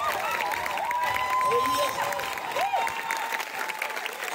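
A church congregation applauds and cheers during a service, with a steady wash of clapping beneath a preacher's amplified voice and shouts of praise.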